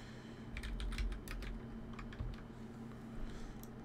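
Steady keyboard typing on a computer while entering text into a PDF editor, quick irregular key clicks close by and fairly quiet, with no talking.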